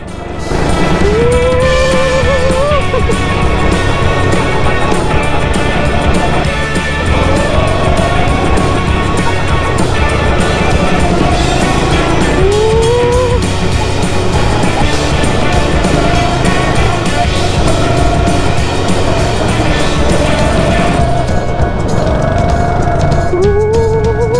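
A go-kart engine roars loudly and steadily for the whole span while the kart laps a track near Panvel at full speed, with repeated rising whines as it accelerates out of corners.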